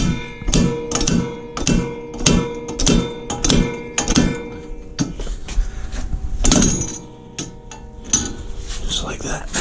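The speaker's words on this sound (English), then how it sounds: "And slide hammer away." A slide hammer pulls an axle on a Miata, about eight loud rhythmic metallic clanks in a steady beat, then looser knocks and rattles as the part comes free.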